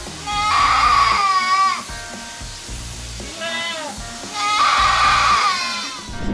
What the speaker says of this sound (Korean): 염소들이 이제 발정기가 오면은 울잖아요